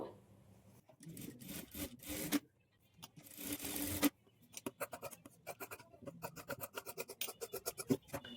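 Sewing machine stitching a cross belt piece for a blouse, heard as bursts of rapid mechanical clatter with short pauses, then a steady run of close, rhythmic needle strokes.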